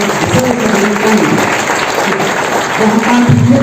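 Audience clapping at a district youth conference, a continuous wash of applause under a voice that keeps speaking through it.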